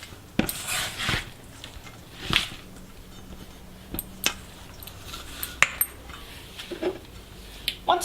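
A spoon clinks and scrapes against a bowl while zucchini fritter batter is mixed, giving irregular sharp taps and chinks every second or so, close up and alone, with no talking.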